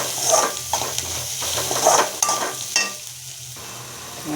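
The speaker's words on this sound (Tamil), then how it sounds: "இப்போது நம்ம வதக்கி வச்சுருக்க பாவக்காவை இதில் போட்டுருவோம். போட்டுட்டு நல்லா வதக்கிடுங்க." Sautéed bitter gourd tossed into tempering in a pan, a loud close sizzle with scraping spatula strokes and clinks of metal, easing into a brief hush near the end.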